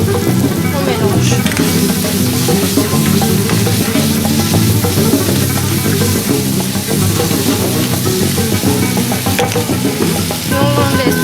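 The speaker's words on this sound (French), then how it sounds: "Et on laisse tout ça se caraméliser pour à peu près 4 autres minutes maximum." Honey caramel sizzles steadily in a hot pan while it is stirred, a loud continuous frying crackle with scraping of the spoon running throughout.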